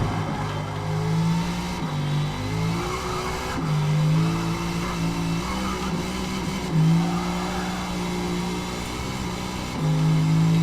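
Racing car engine in an online racing video game, revving hard down the straight with repeated gear-shift dips and rises, loud and continuous, with faint tire squeal.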